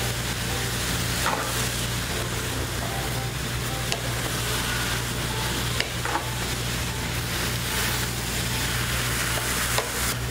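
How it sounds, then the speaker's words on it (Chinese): Shredded radish stir-fried in a wok over high heat for radish cake, a steady close sizzle with scraping stir strokes throughout, under a constant low burner hum. "慢慢拌炒，炒到萝卜丝软了，它的量就变少了。"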